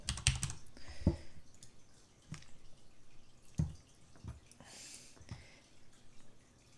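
Scattered clicks of a computer keyboard being typed on, a few light, irregular key taps close by in a quiet room, with no talk.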